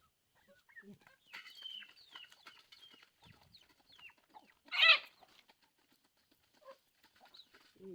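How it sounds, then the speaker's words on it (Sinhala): Chickens and chicks cluck and peep softly at feeding time on a small home poultry farm, with scattered calls, a brief burst of wing flapping midway and quiet voices nearby. "දැන් අපි යනවා අපේ කුකුල් බබාලට මේ කෑම දෙන්න යනවා කට්ටිය."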